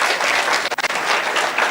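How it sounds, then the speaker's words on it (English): Dense, loud applause from an audience at a gender sensitization session, a brief burst of continuous clapping with a momentary dip midway. "Give them a big round of applause."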